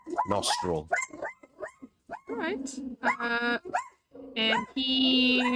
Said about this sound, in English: sorry about the dog barking too.